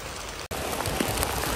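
Heavy rain pours at the Mekong Delta River in Vietnam, a dense, constant hiss of drops drumming on surfaces, steady and close with a brief dropout partway through.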